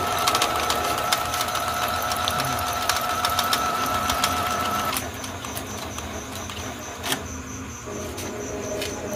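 A portable sewing machine stitching at high speed, a steady loud mechanical whir and rapid needle clatter that shifts to a lighter running tone partway through, with no voices.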